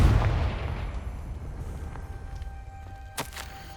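Confringo, a blasting spell in the video game Hogwarts Legacy, sets off a heavy low boom that rolls away and fades over a few seconds, followed by a faint sharp crack near the end.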